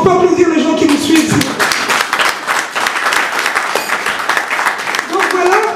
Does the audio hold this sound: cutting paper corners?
no